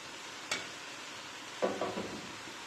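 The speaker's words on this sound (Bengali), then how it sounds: "ভালোভাবে সব কিছু নেড়ে দেব।" Quiet stirring of carrots, capsicum and peas in a pan for samosa filling: a faint soft sizzle with a sharp spoon tap early on and a few scraping strokes near the end.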